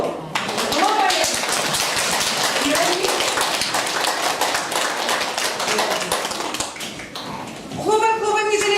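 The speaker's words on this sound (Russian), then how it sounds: "Хлопаем, не жалеем лопаток." A class of first-grade schoolchildren applauds at an award ceremony, dense steady clapping that carries on for several seconds before a voice speaks at the end.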